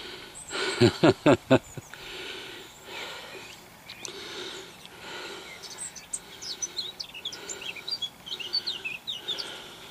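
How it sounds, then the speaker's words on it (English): Seagulls calling over a field where earth was dug up the day before, their thin cries scattered and moderately distant through the second half, after a few loud low thumps at the start. "The seagulls are in where I was digging up yesterday"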